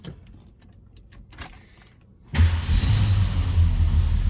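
A 1970 Ford Torino GT with a 351 V8 and automatic transmission cold-starts after a few quiet mechanical clicks, then catches and settles into a loud, steady rumbling idle close by.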